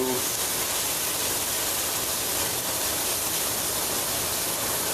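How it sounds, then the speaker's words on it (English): A constant, loud hiss of vegetables sizzling in a hot pan, unbroken and even throughout with no talking. "As long as you hear sizzling, you know it's hot enough"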